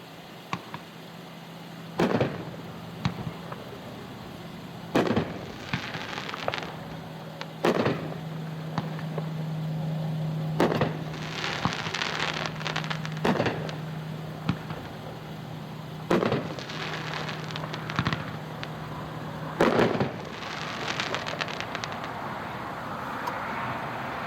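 An American Soldier 9-shot 350 gram fireworks cake fires at a dealer demo show, a series of sharp booms spaced a few seconds apart over a steady low hum, heard from a moderate distance with no talk.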